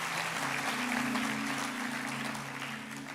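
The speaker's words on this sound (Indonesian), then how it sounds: "berikan tepuk tangan bagi nama Tuhan" A church congregation claps during an Easter sermon, a broad wash of applause at moderate level with a low sustained musical tone underneath, fading slightly toward the end.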